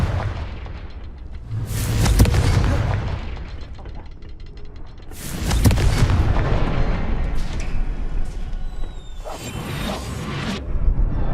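Repeated Confringo blasting-spell explosions in Hogwarts Legacy give heavy booming bursts at roughly three-second intervals, each one a loud impact with a rumbling, crackling tail, backed by battle noise.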